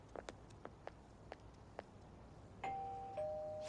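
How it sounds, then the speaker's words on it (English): A two-tone doorbell chime rings at a house door in the video game Persona 5 Royal, two clear sustained tones sounding loud after a series of soft footsteps. "You ring the bell."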